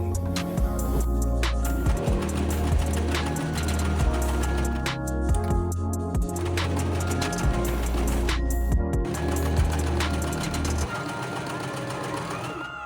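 A sewing machine hems the bottom of a garment in quick bursts, its rapid mechanical stitching chatter starting and stopping close up over several runs, ending in quiet.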